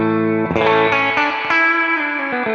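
Electric guitar played through AmpliTube 5 amp simulation captured with a virtual ribbon mic: a few distorted, chorus-tinged chords and notes ring out loud and sustained with reverb, no voices.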